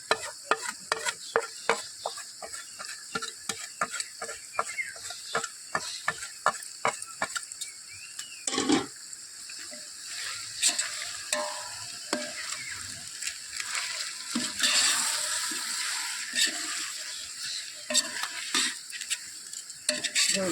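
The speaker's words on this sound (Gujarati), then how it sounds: "ગરમ મસાલો, મરચું, જીરા પાવડર, ગરમ મસાલો ને હળદર એ બધું નાખી દઈએ અંદર મસ્ત." Spices such as garam masala, chili, cumin powder and turmeric frying in a pan for veg pulao, with rapid clinking stirs against the pot over a steady sizzle, close and moderately loud, no talking.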